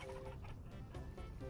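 Chickens clucking in the farming survival game Vintage Story, several birds murmuring and clucking steadily at close range over a continuous low background, with no talk.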